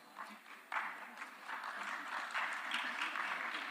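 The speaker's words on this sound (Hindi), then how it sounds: "अच्छा, सिर्फ थैंक यू भी इतनी तालियां बजने लगी" An audience at a conference hall session breaks into steady applause that swells quickly after a brief pause and continues as a dense, even patter of many hands, fairly distant and without speech over it.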